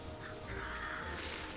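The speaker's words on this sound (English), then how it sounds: "Crows." Crows cawing in the New Pokémon Snap game on Nintendo Switch, a few raspy calls standing out over a steady game backdrop of ambient noise.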